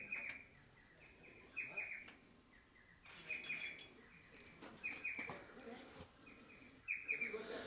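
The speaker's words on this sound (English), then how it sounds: "we always call that bird a chip-chip. He goes chip-chip, chip-chip." Small bird repeating a sharp two-note chip-chip call in bursts every second or so, fairly close, over a low background rumble in open country near an old bulldozer.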